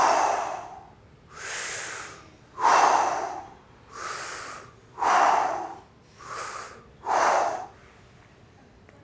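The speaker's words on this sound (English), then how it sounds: "So I want you to do a hard exhale." Seven strong, breathy bursts of forceful exhaling and deep inhaling during a guided breathing exercise, each a loud, close, noisy rush of air lasting about a second, separated by short pauses, with no talking.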